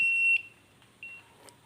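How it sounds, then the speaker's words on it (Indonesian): A high electronic buzzer on a ship's bridge watch alarm system, switched by a relay, sounds steadily, cuts off abruptly on reset, then gives a shorter beep before falling quiet with a faint click. "Di sini relay menyala, sehingga buzzer menyala."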